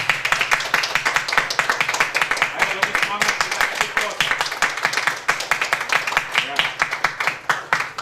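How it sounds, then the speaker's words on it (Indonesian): Steady applause from a graduation ceremony crowd, many hands clapping continuously and evenly throughout. "memberi aplaus dengan memberi tepuk tangan kurang lebih 1 menit kepada para wisudawan"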